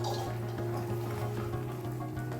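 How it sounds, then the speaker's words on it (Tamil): A little water is poured into a mixer jar while a Kumbakonam kadappa curry is being made, a soft steady trickle over a constant low hum. "கொஞ்சமாக மிக்ஸி ஜாரில் தண்ணி விட்டு அளவாக விட்டுக்கலாங்க"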